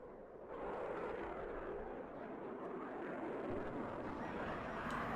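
A bomber aircraft flies in the video game WARNO, a faint, steady broadband roar of engines that swells in and holds for several seconds.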